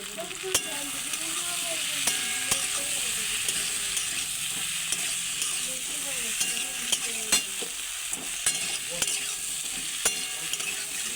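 Fried potatoes cooking with chili powder, turmeric and chopped tomato in a wok make a steady sizzle, punctuated by regular sharp clicks and scrapes of a spatula stirring, with no talking.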